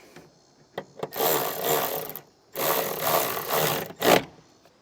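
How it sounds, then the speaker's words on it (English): Nut being tightened onto a ring terminal stud during a tail light converter install on a 2023 Mercedes-Benz, three bursts of close, rapid whirring from a driver with brief clicks between them. "Put our ring terminal over the stud. And we'll tighten it back down"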